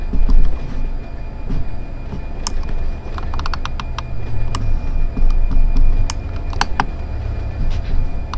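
Locomotive and rail cars in a switching yard during blocking, low rumbling engine with scattered metallic clanks, creaks and ticking clicks, loud and close, no talk.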